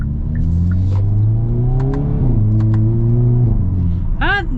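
A Hyundai N car, from the 2023 Elantra N, Kona N and Veloster N range, pulls hard with its engine and exhaust, a loud close interior drone rising through the gears with shift dips, and a voice speaks briefly near the end.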